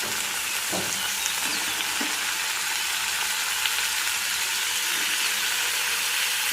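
Bitter gourd pieces hit hot oil with ginger garlic paste and turmeric, setting off a steady bright sizzle with a few soft stirring scrapes, close and continuous, no talking.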